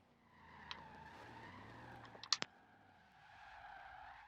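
Cars skidding and racing in the Forza Horizon 4 driving game, heard as a faint, steady engine hum with a quick cluster of sharp clicks midway, with no talking.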